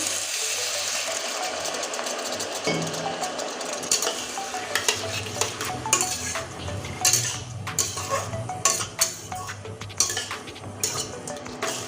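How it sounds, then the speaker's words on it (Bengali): Spice paste and potatoes for a red Bengali egg curry are sautéed in a pan, with a steady sizzle under repeated scraping and clinking of a spatula against the metal, close and continuous throughout. "আবার আরও সুন্দর করে কষতে থাকবো এবার আর একটু অল্প পরিমাণ জলটা দিয়ে দিচ্ছি"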